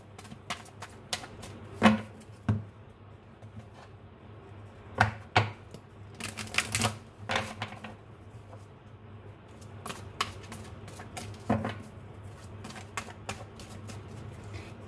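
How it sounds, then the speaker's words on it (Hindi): Tarot cards being shuffled by hand, heard as quick, close, crisp bursts of riffling and flicking in irregular clusters against a quiet room, with no talk. "अच्छे से तो मैं शफल कर लेती हूँ"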